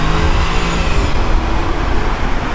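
A Jaguar car drives along a road, its engine and tyre roar a loud, steady, continuous rumble with no clear revving peaks.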